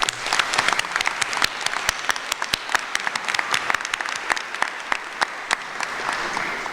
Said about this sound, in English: Let's ask Dr. Grisson to stand and give her a round of applause.